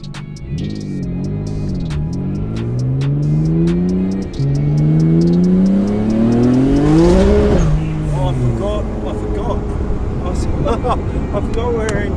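A Nissan Skyline R32 GTR's RB26 engine, running in rear-wheel drive only, revs hard through rising pulls with brief drops between gears, loud and close, with people talking in the cabin over it.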